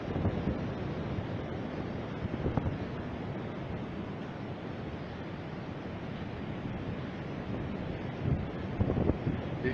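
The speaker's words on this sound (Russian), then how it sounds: "Море бушует." Stormy sea on Anapa beach after a storm, with roaring surf and gusting wind buffeting the microphone in a steady, dense wash that swells slightly near the end; no voices.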